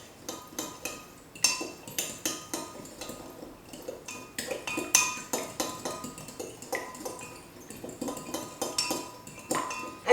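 A utensil whisks fattoush salad dressing ingredients in a bowl with quick, rhythmic metallic clinks and scrapes that run steadily for about ten seconds, close and fairly loud, with no one talking.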